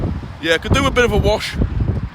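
Gusty wind buffets an outdoor microphone beside a Volvo XC90, a broad continuous rumble and hiss running the whole time beneath a voice.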